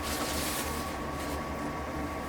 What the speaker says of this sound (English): That's why you can hear the furnace in the background.